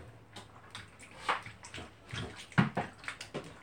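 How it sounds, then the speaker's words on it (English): Water splashes and sloshes in uneven bursts while a pumpkin is being washed, close and moderately loud, with a couple of sharper splashes in the middle. "Oh, it's splashing. It's a lot of water."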